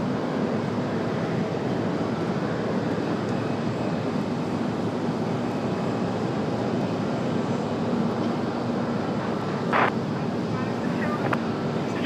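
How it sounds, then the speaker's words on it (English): An Air France airliner readies to depart for Paris at Raleigh-Durham International Airport, its engines producing a steady, distant roar and whine that holds evenly with a brief brighter swell near the end. "Air France getting ready to head back to Paris."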